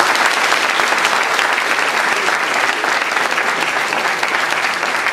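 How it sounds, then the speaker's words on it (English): Dense, steady applause from a large audience at a Toastmasters district conference business briefing, filling the hall at an even, loud level without letting up and with no voices over it. "Please give yourselves a round of applause for that."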